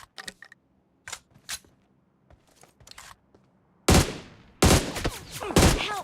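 Automatic gunfire sprays in a tactical shooter video game, sparse early shots giving way to long, loud, dense bursts in the second half with no talk over them.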